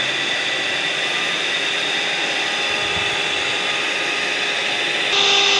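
An electric hand mixer whirs steadily as it beats eggless tea sponge cake batter, with sugar added a spoonful at a time; the motor drone holds even throughout and brightens near the end as the speed rises.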